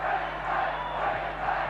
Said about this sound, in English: And the Queensland crowd loving every minute of it.